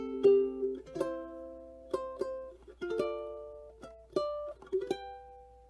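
Slow fingerstyle ukulele playing the opening bar of the Skye Boat Song, a handful of gently plucked notes and chords ringing out one at a time, quiet and close with no voices.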